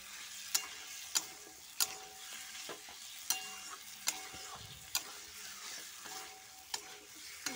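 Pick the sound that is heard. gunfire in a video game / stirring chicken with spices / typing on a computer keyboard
stirring chicken with spices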